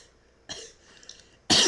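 A person with a sore throat coughs, one short harsh burst followed by a louder, sharper cough at the end, close to the microphone with no talking.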